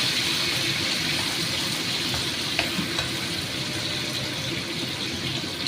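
Potatoes fry in oil with a fennel and fenugreek tempering over a high flame, a continuous close crackling sizzle with occasional faint clinks from stirring.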